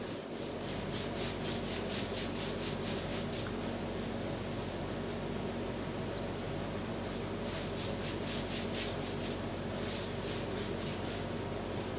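A teacher wipes writing off a classroom board, a steady, continuous rubbing and scrubbing that runs close and unbroken the whole time, with no talk.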